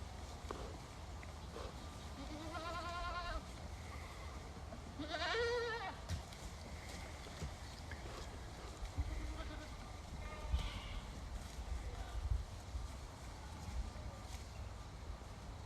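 Several goats bleat in a forest in wavering, nasal calls, a few close and others farther off, over a steady outdoor rustle with faint footsteps.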